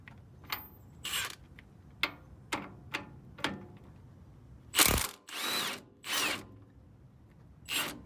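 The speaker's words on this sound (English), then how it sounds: "so I'm just going to use my little impact." A small impact wrench works on Toyota 4Runner front suspension bolts during a Bilstein 5100 coil spring lift, with several short hammering bursts spaced apart followed by a few longer, louder rattling runs, close by in a quiet garage.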